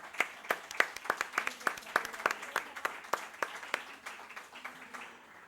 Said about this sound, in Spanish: vamos a darle un aplauso a Moni